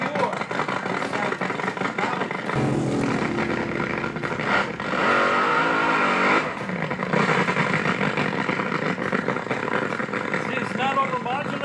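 A recorded nitro-fuelled drag racing car making a run, a harsh, sustained engine roar that swells and holds loudly for several seconds under a voice talking over it.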